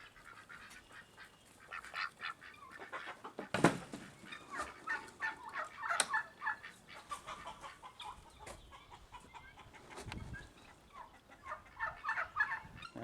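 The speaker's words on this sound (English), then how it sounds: "we are going to let the rooster out" Rooster let out of its coop after being hurt by a fox, with bursts of fowl calls and clucking near and far, a loud squawk around the middle, and steady farmyard bird noise throughout.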